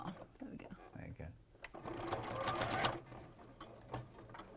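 A sewing machine stitches a quilt in a fast mechanical whirr that builds in the middle and stops, with people talking around it.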